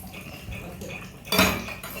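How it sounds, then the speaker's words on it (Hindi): Dishes, pots and pans are washed by hand at home, with steady clinking of cutlery and metal utensils, close up, and a louder clatter partway through. "और मैं बर्तन कर लूँ साफ।"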